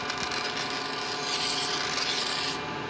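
A Noga deburring tool scrapes steadily around a machined bore during a steam engine clutch rebuild with bronze bushings, giving a continuous close rasping rub with no talk.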